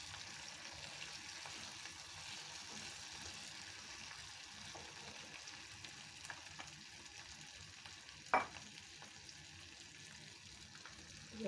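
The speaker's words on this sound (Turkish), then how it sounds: "Salçamızı iyice kavuralım." Tomato paste fries in a pot for red lentil soup, a quiet steady sizzle and crackle that continues throughout, with one sharp clink of a utensil near the end.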